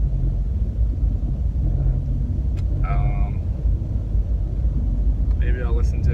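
A car creeping through heavy traffic on the way to San Francisco, a constant low engine and road rumble filling the background while someone talks over it, with brief higher squeaks passing partway through.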